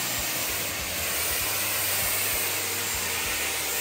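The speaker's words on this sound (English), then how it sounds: "This is the blow dryer." A handheld blow dryer runs continuously at close range, giving a steady, loud whooshing airflow with a high whine, alone without any talk.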